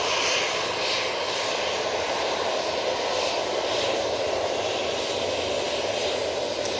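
A TUI Boeing 737-800 airliner at Manchester Airport gives a loud, continuous jet engine roar with a bright hissing whine on top, steady and close, with no voices.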